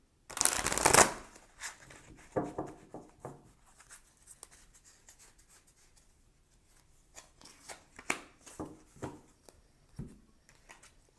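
Tarot cards are shuffled by hand in a sharp riffling burst near the start, followed by scattered softer flicks, slides and taps of the deck, close up and with no talking.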